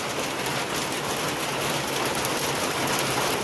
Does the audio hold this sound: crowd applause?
no